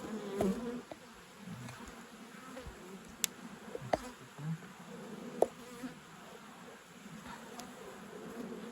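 Honeybees at a hive in an apiary in early spring, a steady busy buzzing hum with scattered louder passes of individual bees flying close, no talking.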